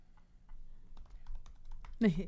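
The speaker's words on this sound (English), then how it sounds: "Look at him typing." Rapid keyboard typing, a run of light clicks and taps at close range, ending with a short burst of a voice.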